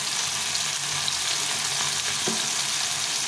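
Salted tomato frying in a pan for a small-fish curry, giving a steady close broadband sizzle with a faint stir around the middle, no voices.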